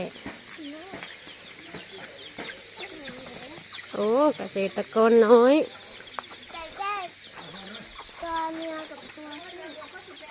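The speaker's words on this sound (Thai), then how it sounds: "เลี้ยงไก่กินไข่ แล้วอีกฝั่งนี้จะเป็นไก่แจ้" Bantam chickens in a farm pen cluck in short bursts, with louder close-up squawks in the middle and scattered calls, while a person speaks briefly nearby.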